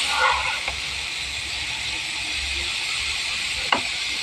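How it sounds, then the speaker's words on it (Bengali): Red cabbage being stirred in a wok, with a steady hiss of sizzling throughout and a couple of brief scraping clicks, one sharper near the end. "বাঁধাকপিটা কড়াইয়ের মধ্যে দিয়ে আমি একটু নেড়ে ছেড়ে নিব।"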